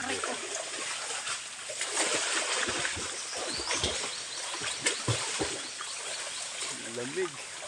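Water splashes and trickles in irregular bursts while people bathe outdoors in a cold rural stream or pool, with voices and a faint bird call over the flowing water.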